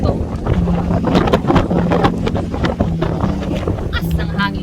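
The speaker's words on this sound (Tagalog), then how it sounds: "Taas ng hangin." Strong wind gusts across an open campsite in Japan, roaring and buffeting the microphone continuously, with a person talking over the noise.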